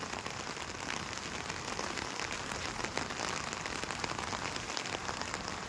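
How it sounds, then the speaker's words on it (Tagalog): Heavy typhoon rain from Typhoon Carina pours steadily and loudly, a dense continuous hiss of drops drumming on surfaces with no pauses. "Malakas pa rin ang ulan."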